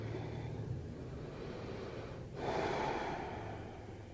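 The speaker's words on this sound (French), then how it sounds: "On prend une respiration." A slow, deep breath taken at rest on a yoga mat, a soft airy exhale followed by a fuller, louder inhale, close and quiet with no talking.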